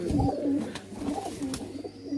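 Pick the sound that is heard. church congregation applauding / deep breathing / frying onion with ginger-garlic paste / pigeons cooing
pigeons cooing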